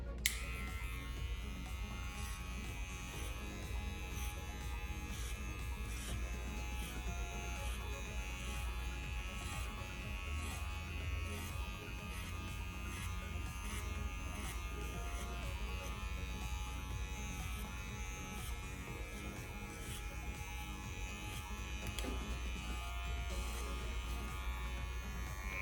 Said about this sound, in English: I always start with my clipper lever all the way open, just because I know that's gonna cut less hair.